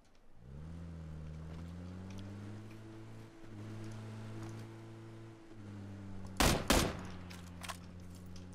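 M16 rifle fire in the PlayerUnknown's Battlegrounds video game: a steady engine-like drone hums throughout, then a loud, tight burst of gunshots cracks near the end, followed by a few fainter shots.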